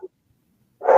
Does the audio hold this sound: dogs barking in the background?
yes